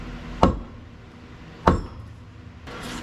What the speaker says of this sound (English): then we're just gonna give it a gentle tap on the floor